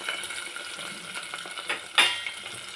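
Green chillies, onion, mint, curry leaves and coriander frying in a pan for a coriander moong dal curry, a steady soft sizzle with light stirring scrapes and one sharper clink of a utensil partway through.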